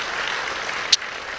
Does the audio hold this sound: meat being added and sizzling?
no